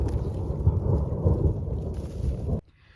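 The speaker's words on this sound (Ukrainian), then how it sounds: "Чуєте, гримить?" Thunder rolling outdoors in a garden on a summer day in Zakarpattia, Ukraine, a loud, sustained low rumble lasting over two seconds before cutting off abruptly, with no talking.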